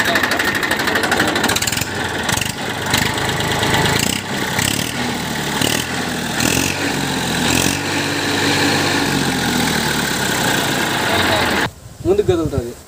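A 2010 Massey Ferguson 5245 DI tractor engine runs steadily at a loud, close mid-pitched idle, with pulsing rhythm and a brief break near the end, while someone talks over it.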